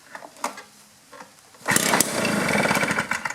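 A small two-stroke blower or trimmer engine, one with a past no-spark fault, catches after a few faint pulls and settles into a loud, steady buzzing idle up close.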